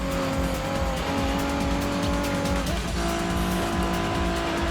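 A Dodge Neon races in the Midnight Club 3: DUB Edition Remix video game, its steady engine drone loud and continuous, with tire squeal and a brief shift in pitch partway through.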